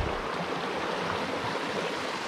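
Creek water flowing steadily along Pleasant Creek in Capitol Reef National Park, a continuous broadband rush close by with no talk over it.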